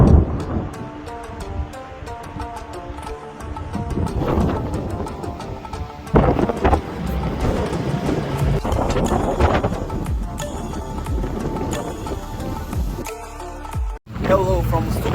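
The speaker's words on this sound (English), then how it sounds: "Hello from super windy day here in Kotor Bay." Strong wind over Kotor Bay buffets the microphone from a passing boat. The loud, irregular rumbling gusts mix with wave and water noise, and a voice is partly heard under the roar.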